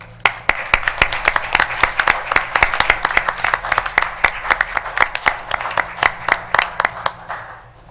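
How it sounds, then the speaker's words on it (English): Applause for a city employee at a city council meeting: a small group claps steadily with sharp, distinct individual claps that stay loud and close throughout, then begin to thin toward the end. "give him a round of applause"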